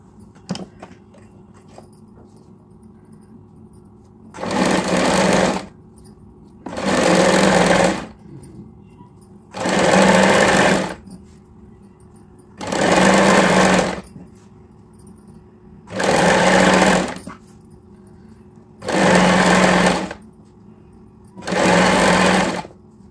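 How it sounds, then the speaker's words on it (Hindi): A sewing machine stitches a pant waistband belt with buckram and elastic in seven separate whirring bursts of about two seconds each, each followed by a short quiet pause, loud and close. "अब मैं मशीन पर आ गई हूँ और ये देखिए ये वाला लाइन हमें स्टिच कर लेना है"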